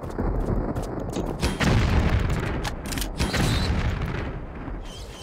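Grenade explosions in Tomb Raider IV: The Last Revelation, in the Giza Sphinx complex, make heavy booming blasts that roll on and overlap, loud and dense across the whole stretch.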